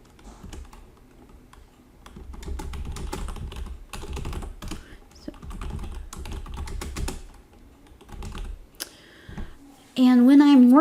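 Typing on a computer keyboard while coding a C++ program in Visual Studio, with quick bursts of clicking keystrokes that pause and resume, close and clear, followed by a short electronic tone at the end.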